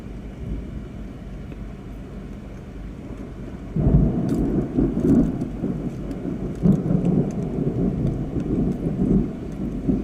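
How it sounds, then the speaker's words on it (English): Thunder from a passing storm on the Oklahoma–Texas plains, a low rumble that swells suddenly after a few seconds and rolls on heavily and close, with a steady wash of wind or rain underneath. "You hear that thunder, guys?"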